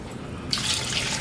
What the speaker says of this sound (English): I'm just gonna add a bit more water in there